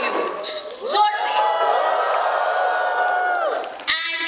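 An audience of children and staff cheers and lets out woot calls, a sustained rising crowd whoop that swells and holds for a few seconds before fading, with a fresh burst at the end.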